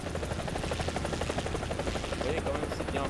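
Steady rhythmic chopping of a helicopter rotor in the War Thunder video game, armed with M134 miniguns, loud and continuous throughout with someone talking over it.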